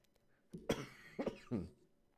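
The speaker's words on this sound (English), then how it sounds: "I'm starting to cough a lot." Three close, harsh coughs in quick succession, near and fairly loud against a quiet background.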